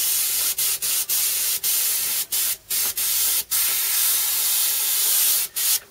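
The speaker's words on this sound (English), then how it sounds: "because you're using an airbrush, it's the best tool in the world to blend by far" An airbrush sprays paint onto a t-shirt with a loud, steady, close hiss, broken by brief stops and restarts as the trigger is released and pressed again.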